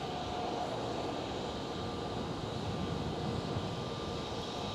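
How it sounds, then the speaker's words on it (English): A KLM Boeing 787-9 departs from runway 24 at Amsterdam Schiphol, its jet engines making a steady, broadband roar that holds at an even level throughout with no voices. "KLM 787-9er. Departing from runway 24."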